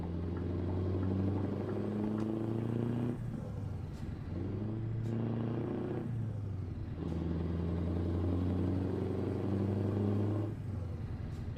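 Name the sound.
truck engine rumbling in the video game Euro Truck Simulator 2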